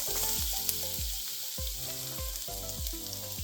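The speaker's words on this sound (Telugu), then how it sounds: "ఇప్పుడు సన్నగా తరిగి పెట్టుకున్న వెల్లుల్లిపాయలు వేసుకుందాం." Finely chopped garlic frying in hot oil, a steady close sizzle broken by repeated rhythmic scraping or tapping strokes at roughly half-second intervals, with no talking.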